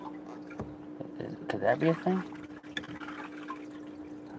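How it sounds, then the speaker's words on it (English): Water from a small container pours into a hole with a short splashing gurgle lasting under a second, heard close among faint room noise while a person talks. "Maybe I pour water in the hole"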